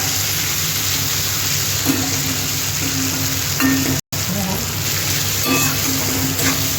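Onions frying in a pan for dim bhujia, a loud steady hiss of sizzling oil with occasional utensil scrapes and clinks, uninterrupted apart from a momentary break.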